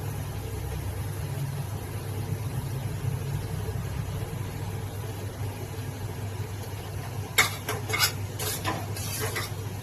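Mutton masala roasts in a pan under a steady low hum and soft sizzle, with a short burst of scraping stirring strokes near the end; nobody talks.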